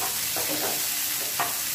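Onions fry in oil for a soyabean curry, a constant close sizzle with several soft scrapes of a spatula stirring them through the pan.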